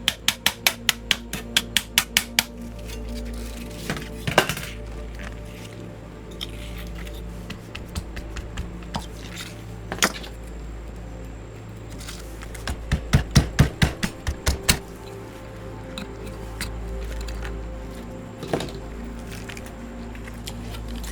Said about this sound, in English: Let's try the hammer on my ice pick.